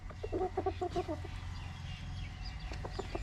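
A chicken clucks in a quick series of short calls early on, then a few softer clucks later, close by over faint background noise.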